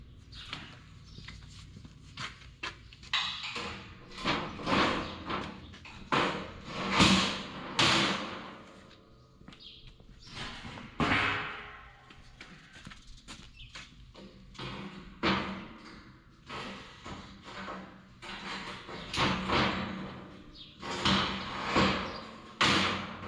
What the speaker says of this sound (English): here's how the doors go back on.